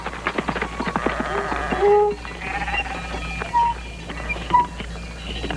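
Sheep at a shelter tucked into a recess of a plateau, bleating several times in short, fairly close calls over a quiet outdoor background.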